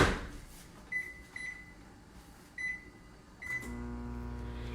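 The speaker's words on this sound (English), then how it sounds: "so we put this in the microwave for 5 minutes" A microwave oven steaming broccoli hums quietly in the background, with several short high beeps spaced out and a louder humming tone rising near the end.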